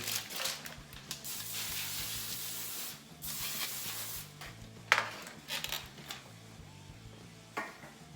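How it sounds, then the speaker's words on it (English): A can of cooking spray hisses in a long steady burst onto a foil-covered pan, then several shorter sprays follow, close and fairly loud with light metallic rustles. "I've got my pan covered with foil, and I'm going to spray it with cooking spray."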